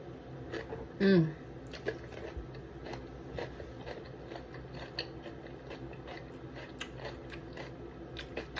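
A single crisp bite into a fresh salad gives one sharp crunch near the start, followed by faint, scattered chewing and small mouth sounds at close range.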